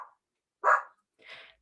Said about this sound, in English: there's another dog and he will bark